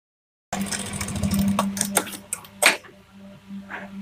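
A sewing machine stitching the lining along a blouse neckline, running with a steady mechanical hum and rapid needle clatter, close and moderate, briefly pausing with a few handling clicks.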